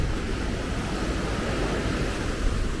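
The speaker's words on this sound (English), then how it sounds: "the waves do come in quite high here" Ocean waves break at Lempa beach near Paphos in a steady, loud roar of surf and wash, with wind rumble on the microphone throughout.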